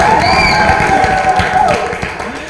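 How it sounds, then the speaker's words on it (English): Studio audience at a talk show applauding and cheering, a close burst of clapping with a few whoops that tapers off toward the end. "a big round of applause for my wonderful audience"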